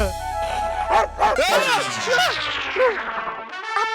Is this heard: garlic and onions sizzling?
no